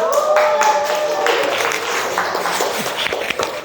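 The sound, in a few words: class applause for a student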